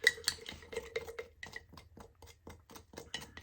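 Utensil stirring salt wash, a chunky mix of paint and salt, in a container: a run of quick scraping clinks and taps, close and fairly quiet, with no talking.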